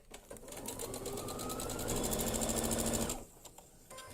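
A sewing machine stitches a quilt block for a meadow bloom design, running in one steady rapid burst of needle clatter for about three seconds before stopping, close and fairly quiet.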